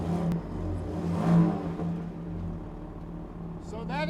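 Exhaust note of a third-generation Ford Raptor pickup in its quiet mode: a steady, subdued low rumble that swells briefly mid-clip, with the engine sounding muted and even throughout.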